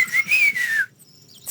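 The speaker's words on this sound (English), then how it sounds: "Can you whistle? Like this?" A single clear, wavering whistled note comes from a character in The Longest Journey adventure game. It is loud and close, rises slightly and then slides down before cutting off into near silence.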